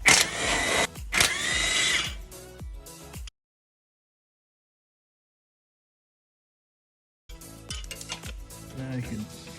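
A power tool removes bracket bolts on a John Deere lawn tractor, whirring in two loud close bursts separated by a few seconds of silence.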